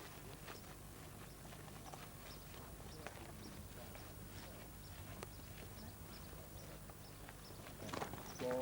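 Horses walk on the way near Saint Catherine's Monastery, their hooves clip-clopping in a faint, uneven rhythm under quiet voices and background noise.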